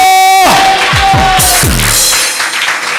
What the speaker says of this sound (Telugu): గట్టిగా చప్పట్లు కొట్టి చెప్పండి హల్లెలూయా